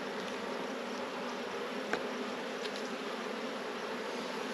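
Honey bees in a weakened production hive buzz in a faint, steady, continuous hum with no voices.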